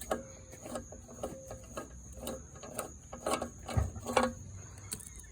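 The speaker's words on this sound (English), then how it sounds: "if you ever need to use the socket wrench, you can" Socket wrench working a bolt on a 2004 Murray 22-inch lawnmower, a run of regular ratcheting clicks at close range, with a faint steady tone behind.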